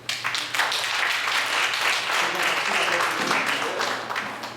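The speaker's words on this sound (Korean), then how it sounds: "박수로 모시겠습니다." An audience at a Korean literary society evening applauds to welcome a presenter for a poetry reading, with steady, fairly close clapping from a seated crowd lasting several seconds.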